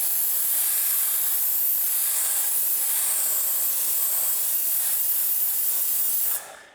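A loud, steady hiss of air from a Rag Company Ultra Air sprayer runs continuously for several seconds, then cuts off abruptly near the end.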